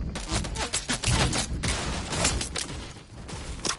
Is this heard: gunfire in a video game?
yes